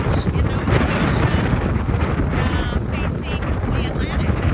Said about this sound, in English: it's windy. Very windy, very choppy.